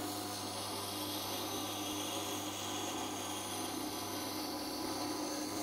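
An axe blade held in a grinding jig is being sharpened, giving a steady, unbroken abrasive hiss and rasp at a constant level, close and continuous for the whole stretch.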